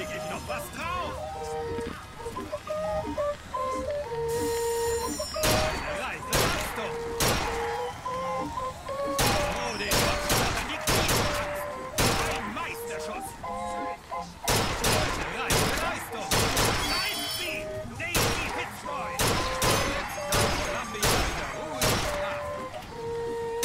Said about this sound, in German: Okay, auf die Boxen schießen.